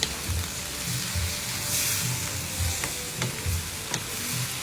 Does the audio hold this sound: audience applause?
no